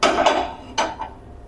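A frying pan is set down on a stove, giving two sharp, close metallic clanks about a second apart, then quiet.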